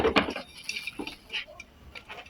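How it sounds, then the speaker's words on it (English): A plate being washed by hand in a village kitchen, light clinks and scrapes of dishware, close and fairly quiet with irregular taps. "see how my auntie is washing the plate"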